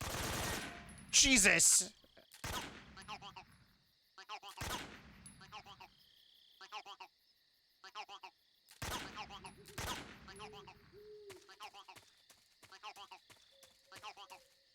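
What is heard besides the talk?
gunfire from a gun in a video game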